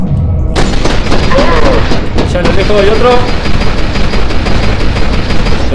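Gunfire in the shooter video game F.E.A.R. 2, with loud repeated shots and booms running through the clip while someone talks excitedly over the firing.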